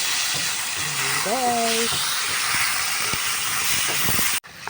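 Beef, softened beforehand in a pressure cooker, sizzles with tomatoes in a hot pan as a vegetable dish cooks: a steady, loud frying hiss throughout, with a person speaking briefly over it and a clatter near the end.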